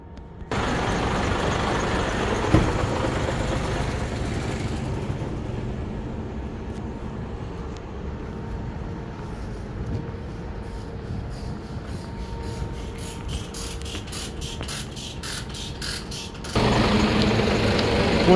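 A car engine, on a drive toward Gimhae, is started and left running to warm up: a steady, fairly loud idle drone with a louder surge near the end.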